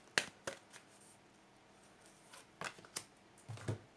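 Tarot cards drawn from a deck and handled, giving a few separate sharp flicks and slaps with quiet gaps between them, close and fairly soft, with no voices.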